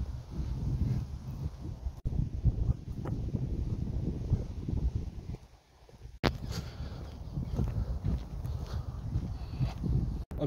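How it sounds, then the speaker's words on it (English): Wind blows steadily outdoors in a park, buffeting the microphone with a low rumbling roar that dips briefly midway, accompanied by some light rustling. "Yes, I know it's windy."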